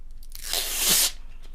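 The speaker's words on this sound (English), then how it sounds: "We have our transfer tape." Transfer tape for a rhinestone template is peeled or torn in one close, crisp ripping sweep lasting about half a second, alone and fairly loud.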